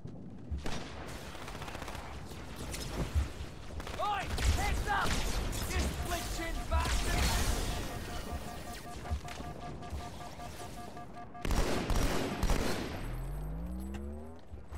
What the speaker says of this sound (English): Hearing sniper shots, but I think they're ours.